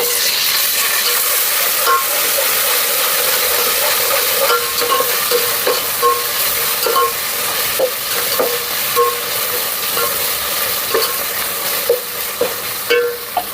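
Ginger garlic paste fries with green chillies and onion in a hot pan, giving a steady close sizzle with repeated sharp stirring clinks toward the end.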